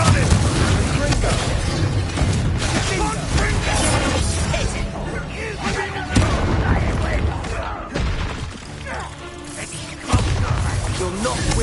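Repeated spell explosions in Hogwarts Legacy combat, with dense booming blasts and crackling impacts running continuously amid game music and shouted voices, with sharper bursts near the six and ten second marks.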